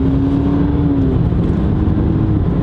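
A BMW 328i F30 with an M Performance exhaust accelerating hard in sport mode, a loud, steady engine drone heard from inside the car with a rising whine that fades early on.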